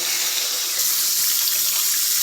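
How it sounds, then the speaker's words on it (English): Cold water running steadily from a tap into a sink for washing a face, a constant hissing splash with no pauses and no talking. "washing your face with cold water is good"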